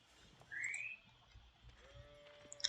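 A sheep in the Age of Empires 4 video game gives a short bleat. It is followed by quieter game ambience and a few faint chimes near the end.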